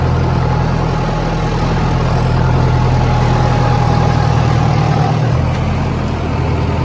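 A Sonalika tractor engine runs steadily at idle, a loud continuous low rumble with a faint whine, with a brief dip in the engine note near the end.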